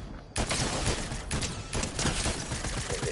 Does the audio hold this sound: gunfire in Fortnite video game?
yes